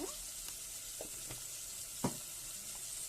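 Vegetables with half a spoon of turmeric fry lightly in a pan for drumstick dal soup, a steady soft sizzle with a few quiet scrapes of stirring, no voices.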